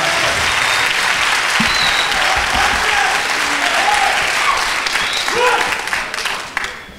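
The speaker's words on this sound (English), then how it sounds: "could I have a round of applause for all of those who would vote for the negative?" A crowd at a school speech night applauds with sustained, dense clapping that swells and then tapers off near the end.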